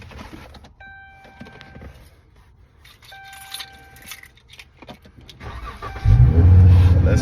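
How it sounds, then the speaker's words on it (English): A Chrysler 300 engine being started: background clatter and faint tones lead into a cranking, rumbling catch near the end, close by and moderately loud, with no talking. "we're gonna start the car and see"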